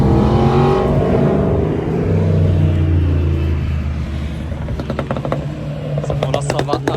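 Cars at the Wörthersee car meet roll down a hill, engines rumbling and revving loudly and close by while a crowd chatters and someone talks in French over the noise.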